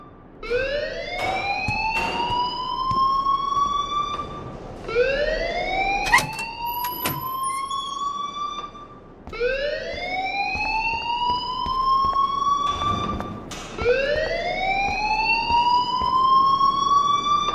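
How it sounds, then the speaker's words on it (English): A fire alarm in the video game Life Is Strange, wailing in repeated rising siren sweeps, loud and close, each cycle lasting a few seconds with brief gaps between. "please turn off that alarm since that's your job"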